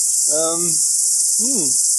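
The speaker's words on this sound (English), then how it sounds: "there's lots of cicadas around as well, so you might just be able to hear that" A constant high, shrill buzz of cicadas dominates throughout, with two short, low harmonic calls breaking in underneath.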